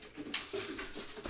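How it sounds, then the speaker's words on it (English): Several dogs run down indoor stairs together, a brief loud clatter of paws and thumps, heard close and alone for a moment. "my dogs all run down the stairs at the same time and it sounds so loud"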